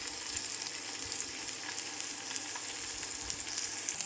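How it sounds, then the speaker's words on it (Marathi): Paneer shallow frying in oil in a kadai makes a steady, bright hiss of sizzling with light crackles, even and uninterrupted, with no talking. "यामध्ये मी हे सगळं शेलो फ्राय करून घेते"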